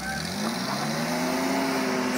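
A neighbor's car strains to pull out through snow, its engine droning steadily at high revs with rising tones like spinning tires, loud and continuous.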